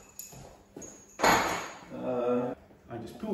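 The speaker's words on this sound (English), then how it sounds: "It's a case of slipping these two bolts out of the seat bracket" Metallic clinks and taps ring out as bolts slip out of the seat bracket of a Royal Enfield Classic 350 motorcycle, with a voice speaking over the intermittent handling.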